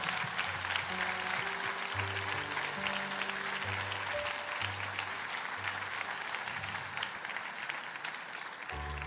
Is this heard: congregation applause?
yes